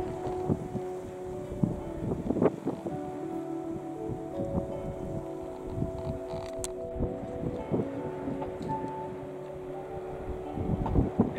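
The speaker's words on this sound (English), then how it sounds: "It's windy up here and I didn't bring the mic" Gusty wind at a quarry buffets the microphone, producing a continuous low rumble and flutter with no voices.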